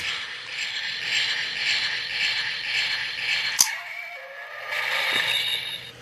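A hissy, buzzing morph sound effect from an Abarekiller Dino Minder toy morpher plays steadily, broken midway by a sharp click, then a fainter whirring sound returns.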